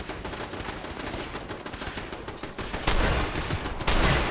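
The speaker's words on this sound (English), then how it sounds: "they're shooting at me" Dense, rapid gunfire crackles through a Fallout 4 firefight, bursts packed close together and growing louder and heavier toward the end, with no talking over it.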